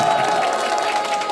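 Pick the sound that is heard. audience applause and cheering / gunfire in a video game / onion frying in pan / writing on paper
audience applause and cheering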